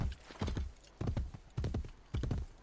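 Horse hooves in the video game Assassin's Creed Brotherhood clip-clop in a steady gait, four evenly spaced bursts of hoof strikes, close and clear with no talk.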